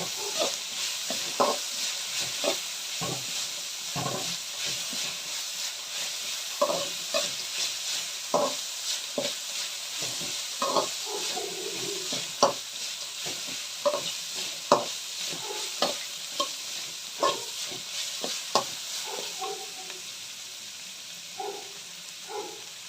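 Onions sizzle steadily in hot tempering oil for flattened-rice chitranna, with frequent scraping clicks of a spoon stirring the pan; no talking.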